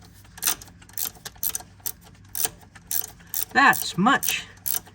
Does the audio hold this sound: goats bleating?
no